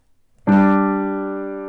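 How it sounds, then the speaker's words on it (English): A piano sounds a G and a D together in the left hand during a Jingle Bells lesson: a single struck two-note chord that rings on and slowly decays, clean and alone after a quiet lead-in. "I'm gonna play the G and the D at the same time."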